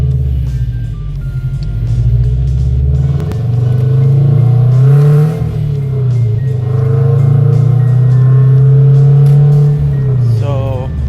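A Subaru BRZ flat-four engine fitted with a high flow cat frontpipe and overpipe revs on a warm start, loud close exhaust rumble rising and falling through several blips, with a clattery rasp.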